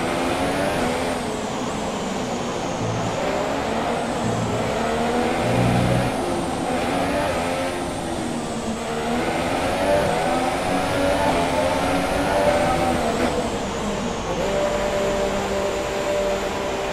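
Formula 1 car engines howl in F1 2017 racing gameplay at the Spanish circuit, a loud, continuous high-pitched whine rising and falling with gear changes, near and steady throughout.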